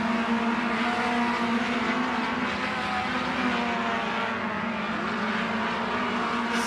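USAC Midwest D2 midget race cars lap in a practice session at Millstream Speedway, their engines a loud, steady, continuous roar close by, with no one talking.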